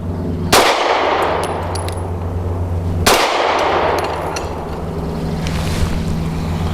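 Two loud, sharp shots from a Taurus GX4 pistol at a range, about two and a half seconds apart, each followed by a long ringing decay over a steady background hum.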